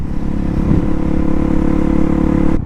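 Suzuki DR-Z motorcycle fitted with a JD jet kit, MRD exhaust and 3X3 mod, its engine held at high RPM in third gear for a wheelie: a loud, steady close-up drone that cuts off abruptly near the end.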